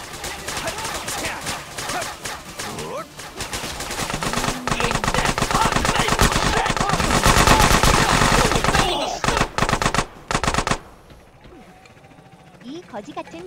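Rapid machine gun fire from GTA San Andreas, loud, dense bursts building to sustained automatic volleys with other gunshots and game sounds mixed in, cutting off abruptly near the end, with brief talk underneath.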